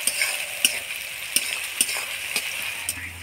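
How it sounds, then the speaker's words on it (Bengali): Chopped onions with a bay leaf fry in oil in a pan, a steady close sizzle broken by occasional stirring scrapes and small pops. "পেঁয়াজটা আমি একটু লাল লাল করে ভেজে নেব।"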